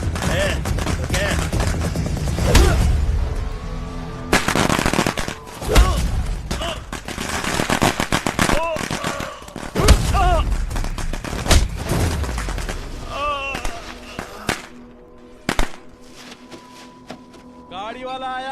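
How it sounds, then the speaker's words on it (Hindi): Firecrackers go off in a neighbourhood in bursts of sharp, rapid cracks and bangs, some loud and close, interspersed with voices talking and gaps of quieter background. "अरे एरिया में पटाखा कौन फोड़ रहे रे?"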